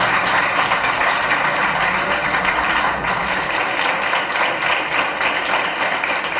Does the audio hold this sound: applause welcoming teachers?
yes